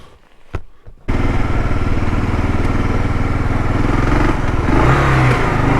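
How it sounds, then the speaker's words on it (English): A motorcycle engine starts up and revs loudly, holding a steady, throaty roar that surges briefly near the end, with no talking. "I got a motorcycle."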